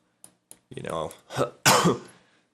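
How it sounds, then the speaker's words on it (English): Several harsh coughs and throat-clearing bursts close to the listener, with a couple of faint clicks before them. "forgive my cough"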